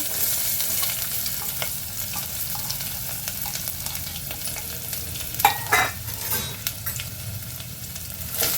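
Small shallots, cinnamon bark and curry leaves hit hot oil with popped mustard seeds, giving a steady close sizzle with stirring scrapes and a few louder spoon clatters near the middle, no voices.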